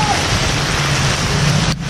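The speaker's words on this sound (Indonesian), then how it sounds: "Hujan lebat sekali." Heavy rain pours down under a bridge in a loud, dense, continuous hiss that fills the whole stretch without letup, cutting off abruptly at the very end.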